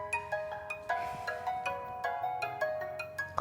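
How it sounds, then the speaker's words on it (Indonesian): A mobile phone plays a melodic electronic ringtone indoors. Bright, clear notes repeat in a steady, looping pattern, with no speech over them. "Lah, kirain suara apaan? Taunya handphone kamu."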